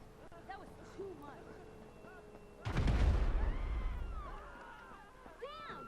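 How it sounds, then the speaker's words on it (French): Grenade blasts in GTA V used to shove a park bench. After some quiet game ambience, one sudden heavy boom lands, followed by a long rumbling decay and scattered debris, with faint background chatter. "je vais utiliser les grenades pour déloger le banc de parc"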